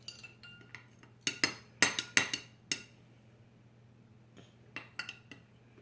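A spoon stirs Elmer's glue slime mixture in a bowl, making a scattered series of sharp clinks and taps against the bowl, bunched in a quick burst early, then sparser knocks later over a low steady hum.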